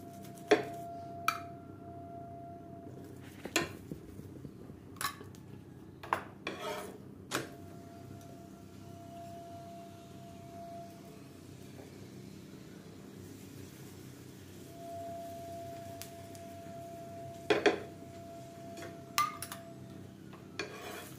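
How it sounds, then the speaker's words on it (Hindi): A radish paratha is flipped and pressed on a griddle, with scraping, rubbing spatula strokes and occasional metallic clinks over a low steady sizzle and a faint hum, close and fairly quiet. "फिर मैं पलट देती हूँ इसे इस तरह से दबाते हुए।"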